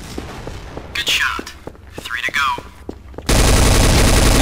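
Gunfire in the shooter game Counter-Strike: Source, with rapid gunshots, sharp game sound effects and a final burst of loud noise, while a person talks quietly underneath.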